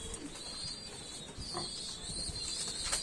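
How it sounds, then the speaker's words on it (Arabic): Domestic pigeons and squab coo softly in a busy, noisy pigeon loft, with occasional wing flaps and high bird chatter throughout. "الدنيا هنا مليانة زغاليل"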